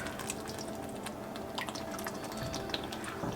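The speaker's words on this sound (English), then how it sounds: "and 1 can of Rotel. I'm going to give that a stir." A pot of taco tortilla soup with a can of Rotel tomatoes is stirred, giving soft, continuous wet sloshing and liquid clinks at close range. No one speaks.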